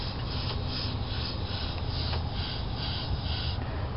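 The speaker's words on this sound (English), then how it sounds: "I'm just going to blow some air through here" Air blown by mouth through a cracked EGR vacuum line, hissing steadily out of a hole in the hose, a constant close rushing sound lasting a few seconds.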